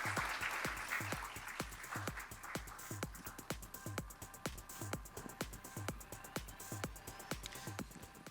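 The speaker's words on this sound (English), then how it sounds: "And let's have a round of applause for this amazing panel." An audience applauds a panel at a women's health event, with sharp, evenly spaced claps that stay steady and fairly faint throughout, sounding sparse in a room.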